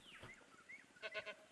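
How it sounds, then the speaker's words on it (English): A goat in the dinosaur park game Jurassic World Evolution 2 lets out a quick run of three short, wavering bleats, fairly clear over a soft game background after a thinner call at the start. "It's a goat."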